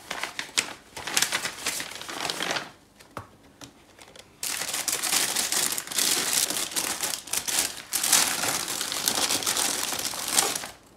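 Plastic stationery packet from a Zakka haul crinkles and rustles loudly and close, in dense bursts with a short quieter pause midway, no talking.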